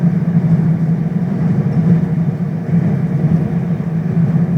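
A steady, loud low rumble of a subway train runs throughout with no pauses, a dense mechanical drone filling the whole stretch.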